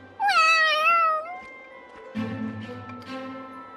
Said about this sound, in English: You hungry, fat cat?